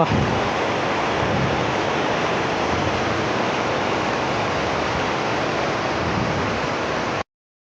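A roaring waterfall pouring white water, a dense, constant rush of broadband noise, loud and close, unbroken until it cuts off abruptly near the end.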